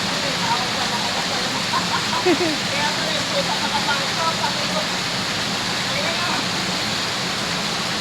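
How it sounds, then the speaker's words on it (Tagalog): Heavy rain pours down in a dense, loud, unbroken hiss that fills the whole stretch, with a person's voice faintly mixed under the downpour. "Lakas ng ulan!"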